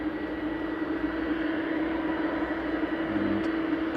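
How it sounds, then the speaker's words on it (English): An Airbus A330 airliner arriving at Manchester Airport from Beijing, a steady distant engine roar and rumble holding evenly throughout. "Airbus A330 coming in from Beijing, flight 753, reg is B6529."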